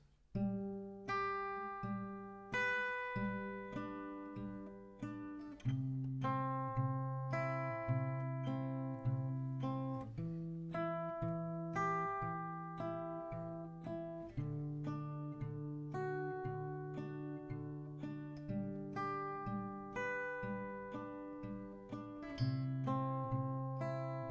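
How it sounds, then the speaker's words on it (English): Steady acoustic guitar picking through a slow verse chord progression of a song, individual notes ringing clearly, close and moderately loud with no voices. "So this is straight picking part here for the verse."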